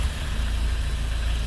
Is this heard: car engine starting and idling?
yes